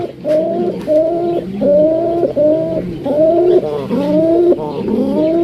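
Several pigeons, a red male and a sky-blue female among them, coo loudly and repeatedly up close in a steady rhythm of rolling, throaty calls, with no talk over them.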